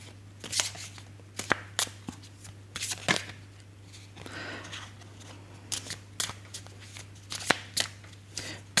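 Oracle cards are shuffled close by in a quiet room, giving a series of crisp snapping riffles and soft slides at an uneven rhythm, with no speech.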